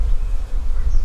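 Honey bees buzzing during a hive inspection in a bee barn, a steady dense drone heard close up for a brief moment.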